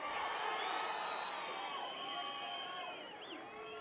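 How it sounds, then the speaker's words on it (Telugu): A large crowd at a political rally cheers loudly and continuously, with whoops and shouts rising above a dense wall of noise that holds steady throughout. "గట్టిగా చప్పట్లు కొట్టండి"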